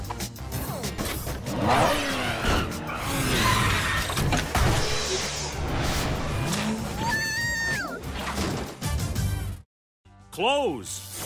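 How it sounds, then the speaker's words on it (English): The Cat Car from the PJ Masks video game revs its engine, a continuous cartoonish motor whine with skids and rising tones, mixed with busy game effects and a voice. "To the cat car!"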